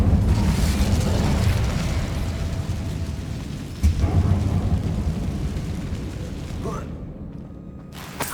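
A fire spell cast in the video game Hogwarts Legacy gives a loud, roaring whoosh of flame with a deep rumble. A sharp burst comes midway, and the sound fades to quiet near the end.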